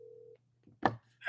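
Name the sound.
phone call ringing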